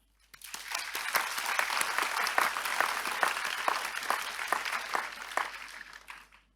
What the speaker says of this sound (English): graduates, please join me in another round of applause to all the university staff